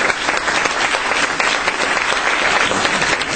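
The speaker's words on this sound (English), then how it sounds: "we'd like to give you a round of applause, too" An audience at a town meeting claps in dense, steady applause that continues evenly throughout, fairly loud and without any talk over it.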